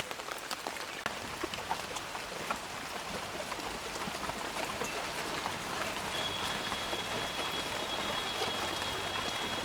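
Steady rain falling on a monsoon day, a dense even patter of drops on surfaces continuing throughout, with no talking.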